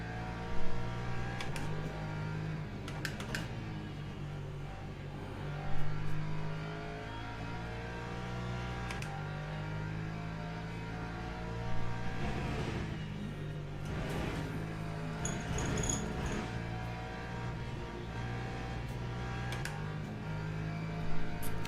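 LMP2 race car engines in the sim racing game Le Mans Ultimate drone steadily with rising and falling revs and occasional louder whooshes of passing cars, continuous and without talk.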